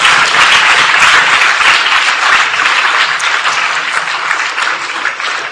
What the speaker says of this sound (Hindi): अब सब टीमें खड़े हो जाओ और अपने अपने लिए तालियां बजाओ।